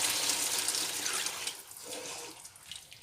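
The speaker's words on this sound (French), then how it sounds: "Voilà, je mets de l'eau." Water poured into a cooking pan while making penne, a steady splashing stream that tapers and ends in a few small trickles, close and moderately quiet, no talking.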